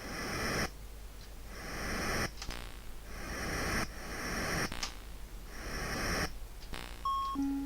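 Bell chimes from the Commodore 64 racing game Revs ring out against steady static-like engine noise, with a clear tonal ding near the end.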